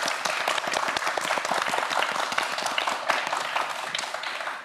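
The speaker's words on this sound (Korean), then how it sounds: "다시 한번 큰 박수 부탁드립니다." Studio audience on a televised science quiz show applauding a student contestant, a sustained burst of many hands clapping at close range, steady and fairly loud with no voices over it.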